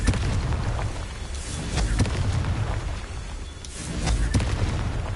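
Blasting-curse explosions from the Hogwarts Legacy video game give deep booming bursts with crackling debris over a rumbling background, several hits spread across a few seconds.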